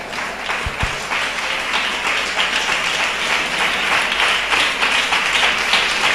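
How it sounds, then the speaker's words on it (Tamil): Congregation applauding during a Tamil Christian sermon in church, a steady, dense wash of many hands clapping that fills the whole stretch without letting up. "கைதட்டுங்க பார்க்கலாம்."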